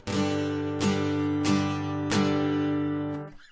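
Four even down strums on a guitar, each chord ringing into the next in a steady beat before the last one is muted.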